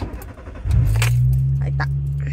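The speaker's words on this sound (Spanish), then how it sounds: "Como se oye su motorcito." Mini car's small engine cranks and catches, then settles into a steady, close, buzzing idle, with a few clicks and jingles over the start.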